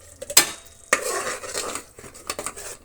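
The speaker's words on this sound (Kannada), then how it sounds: "ಈ ಮಸಾಲೆ ಕೂಡ 1 ನಿಮಿಷ ಫ್ರೈ ಮಾಡೋಣ" Masala with spinach stirred in a hot pan for egg biryani, a metal spoon scraping and clinking against the pan in short bursts over a soft sizzle, close and alone.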